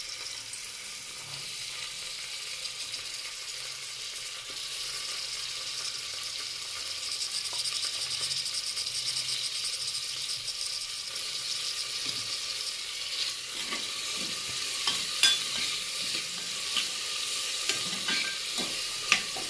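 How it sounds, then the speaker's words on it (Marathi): Chopped tomato sautéing in a pan for sambar, giving a steady faint hiss of frying through the whole stretch, with occasional soft stirring taps growing more frequent toward the end. "मी ह्याच्यामध्ये टोमॅटो चांगला परतून घेतला आहे"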